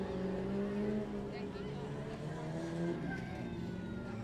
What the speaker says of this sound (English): Next up, I hear the buzz of a mini sprint.